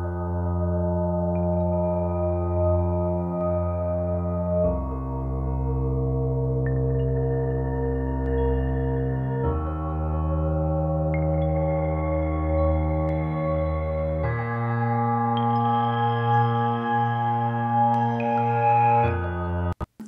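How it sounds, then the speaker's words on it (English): Heavily processed, distressed-sounding piano in a space-themed video game score, slow sustained chords shifting every few seconds with a warm low bed and faint glittery high notes, close, full and steady throughout without any voices. "I've tweaked this piano sound a lot to make it feel a little bit distressed and not too piano."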